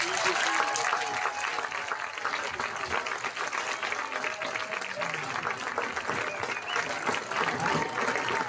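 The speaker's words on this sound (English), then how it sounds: "Let's give all of these honorees a big round of applause." Crowd applause ringing out at a varsity football game for honorees, a dense, steady wash of clapping that holds without a break for over eight seconds, heard from within the stands.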